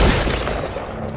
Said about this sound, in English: The grenade actually hit my wall,